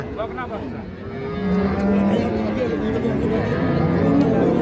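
A Holstein Friesian dairy cow moos on a farm, a low drawn-out call rising over a steady background of crowd chatter and voices nearby.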